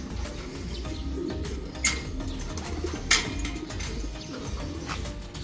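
Pigeons, racing longer-distance birds, cooing and calling close by as they are let out of their loft to fly, with a few brief sharp bursts and a steady low rumble of background noise.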